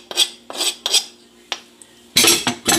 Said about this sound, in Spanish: Ahora vamos a revolver todo, el chimol y el repollo.